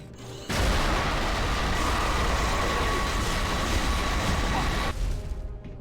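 A nuke cannon fires in the 2006 shooter game Prey, releasing a sustained, roaring blast that booms and rumbles loudly for several seconds before cutting off abruptly.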